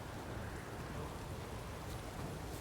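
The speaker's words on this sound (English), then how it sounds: "A storm, damn it." Steady, dense storm rain hisses and patters across an outdoor scene in The Witcher 3 video game, with a low rumble beneath it and no voices.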